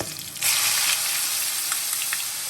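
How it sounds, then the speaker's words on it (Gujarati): Onion paste and ginger hit hot oil with a sudden loud sizzle that bursts in after a short pause and keeps frying steadily, close up. "હવે આપણે આ બધી ડુંગળીની જે પેસ્ટ છે તે અને આદુ બે તેલમાં એડ કરી દઈએ।"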